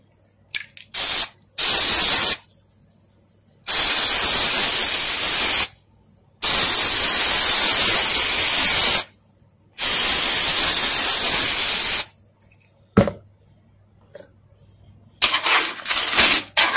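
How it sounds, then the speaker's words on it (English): Foam spray adhesive sprayed onto a transformer winding as insulation, several loud hissing bursts of a few seconds each separated by short silences, close and harsh. "for insulation I am using foam spray adhesive"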